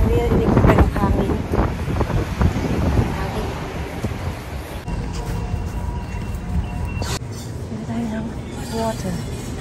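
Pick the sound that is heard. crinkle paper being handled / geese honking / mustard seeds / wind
wind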